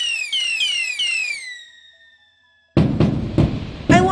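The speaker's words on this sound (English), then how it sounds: "I launched fireworks into the sky for a burst of joy." Fireworks launched in The Universim colony game: a series of whistling rising tones fades out, a short hush follows, then loud bursting crackles and pops arrive in quick succession near the end.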